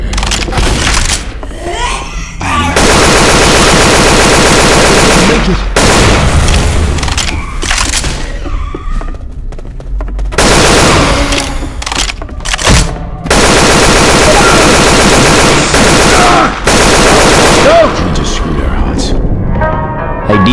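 Gunfire in the Left 4 Dead 2 zombie shooter, played in Realism mode on The Quarter map, with loud sustained bursts of rapid automatic shots in several long stretches separated by short pauses, dense and close throughout.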